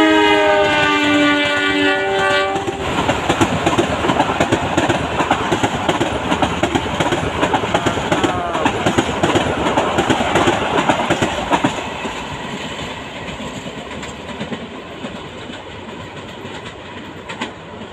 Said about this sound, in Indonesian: Semboyan 35 dari kereta api Sri Tanjung sudah terdengar nih